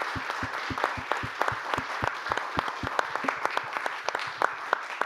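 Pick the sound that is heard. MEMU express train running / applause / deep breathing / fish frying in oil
applause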